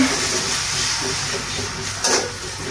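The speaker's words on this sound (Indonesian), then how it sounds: "Ini lanjut kita goreng dulu cabai hijaunya" Green chilies frying in hot oil give a steady, close sizzling hiss throughout, with a brief sharper spatter near the end and no talking.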